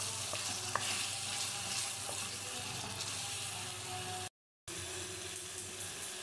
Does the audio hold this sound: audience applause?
no